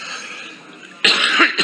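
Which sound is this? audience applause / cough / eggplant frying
cough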